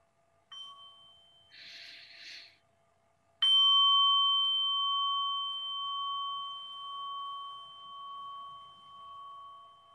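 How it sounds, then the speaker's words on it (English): A bell rung to pause a discussion session gives a soft first ding, then a louder clear strike whose tone rings on and slowly fades, alone in a quiet room. "I'll give you sound of the bell."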